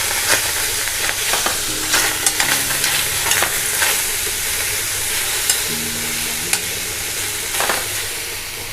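A preheated vessel on a stove sizzling as plums go in for jam, a continuous loud hiss with occasional crackles and light clinks, no voices.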